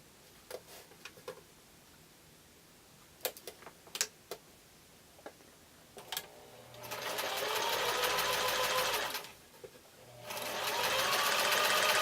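A sewing machine stitches pieced quilt blocks in two loud, steady bursts of rapid whirring, with a few light ticks and clicks of handling fabric before it starts.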